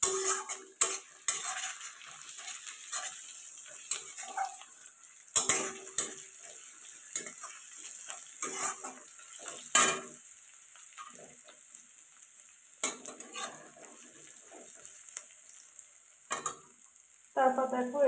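Onions fry in a pan with ginger garlic paste, crackling softly while a spoon scrapes and clinks against the metal in intermittent bursts, close by and without speech.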